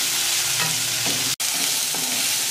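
Onion, tomato, green chili, garlic and coriander frying in a kadhai and stirred with a spoon, a close steady sizzle with a few soft scraping strokes and a brief dropout midway.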